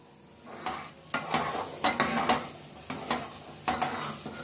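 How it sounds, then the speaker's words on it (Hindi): A spoon stirs rice kheer with milk and date-palm jaggery in a pot, a series of about six distinct scraping strokes against the metal with soft bubbling between them, close and clear. "बीच बीच में हिलाते हुए चलाते रहिएगा जैसे मैंने कहा है।"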